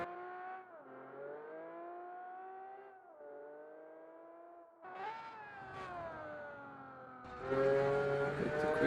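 A car engine in the racing simulation game Automation revving high with a strained buzzing tone through several gear pulls, bouncing against the rev limiter, the pitch climbing and dropping between shifts and growing louder near the end.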